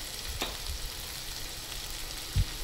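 Red chilli powder, turmeric and garam masala frying in hot oil for a dried bombil chutney, a steady soft sizzle with a couple of faint clinks from a spoon in the pan.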